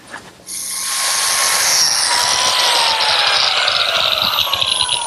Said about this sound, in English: I'm cutting biscuit slots